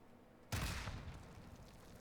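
An explosion in the video game Modern Warfare bursts suddenly after a quiet half second, a loud broadband blast that slowly decays into a rumbling tail.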